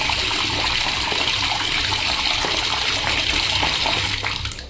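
Discoloured, dirty tap water gushes in a hostel washroom, a loud, continuous splashing stream running close by and easing slightly at the end.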